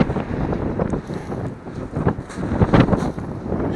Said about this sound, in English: Try and keep out of the wind.